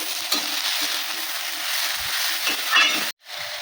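Cabbage, carrots and beans frying in a pan for vegetable spring rolls, a steady close sizzle with stirring scrapes throughout, ending in a sudden cut of silence before the sizzle returns.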